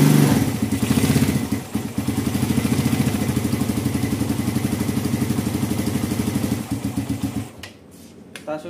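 A motorcycle engine, sent in unable to start because of a jammed starter, runs loud and close at a steady fast idle with a rhythmic thumping clatter, then cuts off near the end, with no talk.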